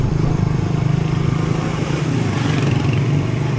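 A motorcycle engine runs steadily and loud throughout, a continuous close droning rumble without pauses.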